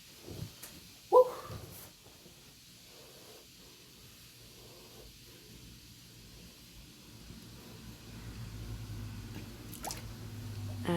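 Wet locs soaked in apple cider vinegar squish as they are squeezed, with one brief close squelch early on, then soft wet dripping and faint fluid sounds against a quiet background.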